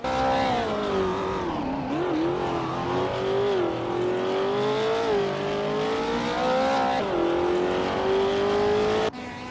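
Group 5 race cars lapping a track with tight corners and elevation changes, engines droning loudly and continuously, with pitch rising and dipping through gear changes and corners.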